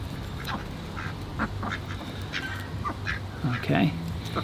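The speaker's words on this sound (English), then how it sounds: "The ducks have all come over to see what I'm doing." Ducks quacking nearby outdoors beside someone working on a bonsai, several short, scattered quacks rising louder toward the end, with a person talking at times.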